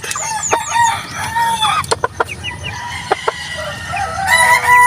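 Roosters crow and hens cluck close by in a backyard flock, several overlapping crows with sharp clucks and squawks throughout, with no talking.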